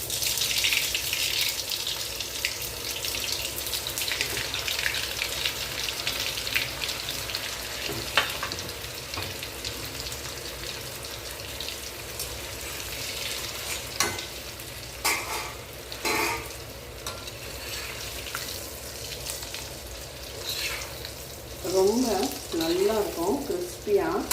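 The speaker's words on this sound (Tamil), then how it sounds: "இங்கே பாருங்கள் எண்ணெயை காய வச்சுருக்கேன் நம்ம மெது மெதுவாக இதை எடுத்து பொறிச்சிடலாம்" Potato and wheat flour snack rolls deep-frying in hot oil, a steady, close bubbling sizzle throughout with occasional clinks and stirring near the end, no talking.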